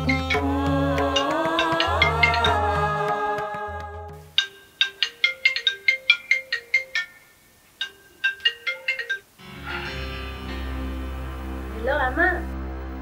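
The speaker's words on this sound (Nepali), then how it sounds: "तिम्रो आमाको फोन आयो।" A mobile phone ringtone for an incoming call plays loud and near as a melodic tune, then breaks into a run of short repeated chiming notes; people talk over the opening and closing parts.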